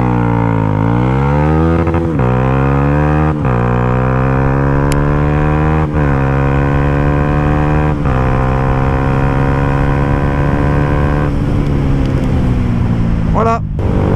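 Loud, steady single-cylinder motorcycle engine pulling hard, its pitch sliding down and climbing again with each gear change, close and continuous throughout.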